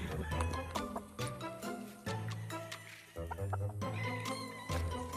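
A rooster or chicken clucks and calls repeatedly in a series of loud, close, harmonic bursts, with brief gaps between calls and no talking.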